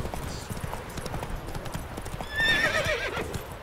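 A horse in The Witcher 3 video game trots with steady rhythmic hoof clip-clops, then lets out a loud, clear whinny near the end.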